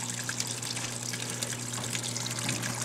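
Water streams steadily down the wall of an Exo Terra dart frog vivarium and drips into the background, a constant close trickle and splash over a low pump hum.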